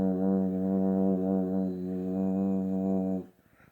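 A voice imitates the humming vibration felt during sleep paralysis, holding a low, steady buzzing drone for about three seconds before it cuts off abruptly.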